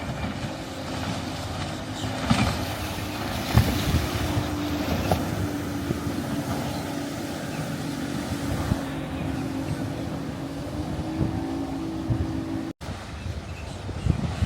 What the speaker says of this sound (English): we got a little mini center console here.